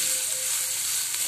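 Cut green chillies sizzling in hot oil with drumstick leaves being sautéed, a steady, close, even frying hiss with no voices.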